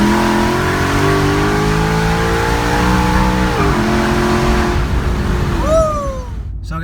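A 2017 Ford Mustang 5.0 V8 fitted with a JLT cold air intake revs up through second gear, its loud engine note climbing steadily before a brief shift dip and a final rising pull that cuts off.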